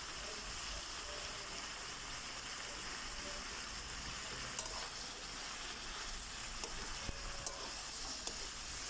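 Chicken sautéing for pinakbet in a pan gives a steady, close sizzle and hiss throughout, with a few faint clicks of a utensil and no voices.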